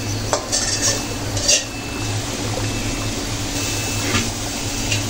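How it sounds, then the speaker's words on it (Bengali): Spices and green chilies sizzle steadily in a pan, with occasional clinks and scrapes of a utensil stirring against the metal, loud and close throughout. "মশলাগুলো কিছু সময় নিয়ে কষে নিতে হবে, যেন মশলার যে কাঁচা গন্ধটা যেন না থাকে।"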